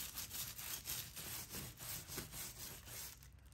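A brush scrubs metallic foil transfer into the basket weave of a woven cowboy hat, making steady, close, rhythmic back-and-forth rasping strokes that continue without pause for several seconds.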